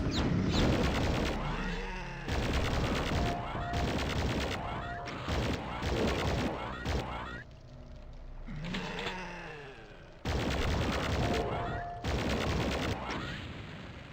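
Rapid bursts of loud game gunfire in Duake, a Doom mod built in Quake, come in repeated volleys separated by short pauses, heavy and close with roaring impacts.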